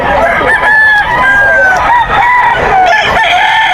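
Rooster crowing repeatedly at a poultry seller's in Bocaue, Bulacan, with drawn-out cock-a-doodle-doo calls overlapping from more than one bird, loud and close, over constant farmyard clucking.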